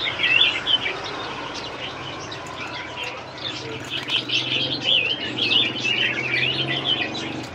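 A long-tailed caged songbird sings at a bird market, bright warbling phrases repeating steadily over a low market murmur, with faint pigeon-like cooing and wing flutters around it.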